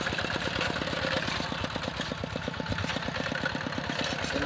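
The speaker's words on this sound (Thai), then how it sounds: "เป็นรถไถหน้าขนาดเล็กนะครับ" Small walk-behind farm tractor engine running steadily with a fast, even thumping pulse, close and loud, on a rice farm, with no talking.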